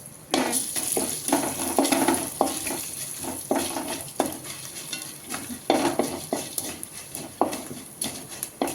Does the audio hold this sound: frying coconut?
yes